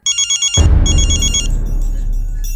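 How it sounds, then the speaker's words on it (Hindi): Telephone ringback tone on an outgoing call, a few short repeated beeps that are then cut off by a loud burst of broadband noise which continues steadily to the end. "लेकिन संगीता का फोन न लगो, तो हमने अपने मकान मालिक को फोन कर लो।"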